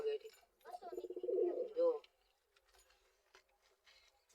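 Pigeons in a home coop, one with a newly hatched chick, give a close, soft rolling coo lasting about a second, followed by quieter rustling, with a person speaking briefly nearby.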